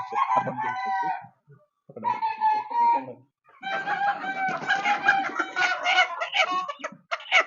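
Fifty-five-day-old broiler chickens cluck at a poultry farm, a dense, busy chorus of overlapping calls that pauses briefly and returns louder and steady.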